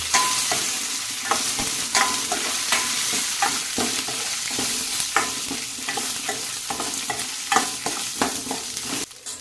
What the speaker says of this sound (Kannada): ಇವಾಗ ನಾನು ಇದಕ್ಕೆ ಆನಿಯನ್ ಹಾಕೊಳ್ತಾ ಇದ್ದೀನಿ ಮತ್ತು ಬೆಳ್ಳುಳ್ಳಿ ಹಾಕೊಳ್ತಾ ಇದ್ದೀನಿ ಜೊತೆಗೆ ನನಗೆ ಬ್ಯಾಡಗಿ ಕೂಡ ಹಾಕೊಳ್ತಾ ಇದ್ದೀನಿ